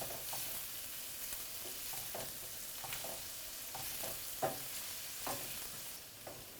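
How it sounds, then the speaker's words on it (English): Shallot and garlic frying in oil for chicken Marsala, a steady close sizzle with occasional stirring clicks and scrapes rising above the hiss. "We put the shallot and the garlic. And we leave it cook a little bit the shallot and the garlic."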